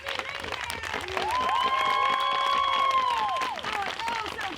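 Audience applause and cheering at a murder mystery stage combat show, a dense, continuous clapping crowd with a voice speaking over it.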